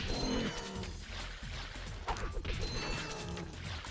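Suck Cannon in Ratchet & Clank drawing in water, a steady whooshing mechanical suction with splashy churning and a few thuds, loud and continuous with no talking.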